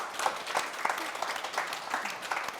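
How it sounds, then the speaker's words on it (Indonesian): A small studio audience applauds for Bang Mei, steady moderate clapping at a modest level, fairly close, with faint voices mixed in. "Oke, tepuk tangan dong buat Bang Mei dong."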